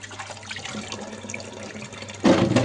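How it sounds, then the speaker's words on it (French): A juicer's auger is rinsed under running tap water, a steady splashing stream that grows suddenly louder and fuller near the end as the flow hits the part, heard close with no talk. "je vais rincer la vis sans fin, tout simplement, même sans brosser du tout"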